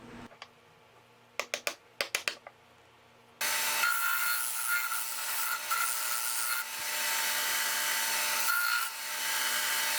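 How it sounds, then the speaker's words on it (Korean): A stainless steel rod, 10 mm outside and 8 mm inside diameter, is cut while building a doweling jig. A few light ticks and taps come first, then a loud, steady grinding cut runs to the end. "외경 10mm, 내경 8mm의 스텐봉을 절단하고 구멍에 끼워 넣습니다."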